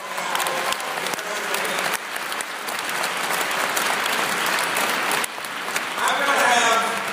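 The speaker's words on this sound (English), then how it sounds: "Give us a round of applause." An audience at a university new student day breaks into sustained applause, a dense, even wash of clapping from a large crowd that carries on for several seconds with slight swells.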